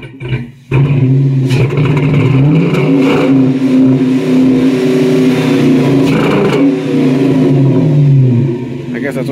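A Dodge Magnum R/T engine, not started for a while, revs loudly and steadily for several seconds, its deep rumble rising and falling close by, with voices talking over it.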